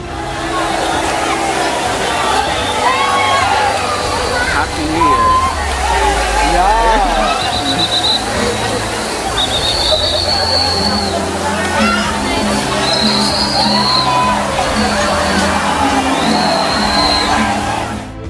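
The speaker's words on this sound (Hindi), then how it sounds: "म्यांमार में इस दिन एक दूसरे को पानी से भिगोने की परंपरा है" A dense crowd at a Myanmar New Year water festival splashes and sprays water amid loud, continuous babble, shouting and children's voices, with festive music and whistles carrying throughout.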